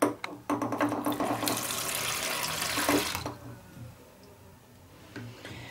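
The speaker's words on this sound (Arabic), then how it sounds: "الماء سخون." Hot tap water runs steadily into a bathroom sink while a cleaning mixture is prepared, a loud close rush that stops after about three seconds, leaving a quieter trickle and drips.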